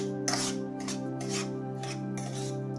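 Gram flour being roasted and stirred in a pan over low gas: repeated close scraping strokes of a spatula against the pan, rhythmic and steady over a constant background hum.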